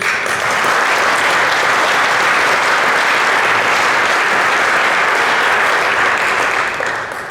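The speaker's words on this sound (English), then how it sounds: "I think that deserves a round of applause." Crowd applause at a business report launch on the Indian diaspora in the UK, loud, dense and continuous clapping that holds steady before tapering slightly at the end.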